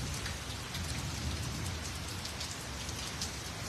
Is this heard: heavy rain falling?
yes